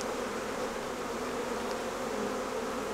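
A swarm of honeybees buzzes steadily around a beekeeper at an open hive. The drone is continuous and fairly close, with no talk.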